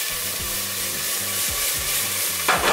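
Onions frying in a pan give a close, steady sizzle while a utensil stirs them with repeated scrapes and knocks, and a brief louder burst of frying comes near the end.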